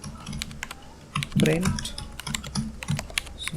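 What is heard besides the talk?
typing code on a computer keyboard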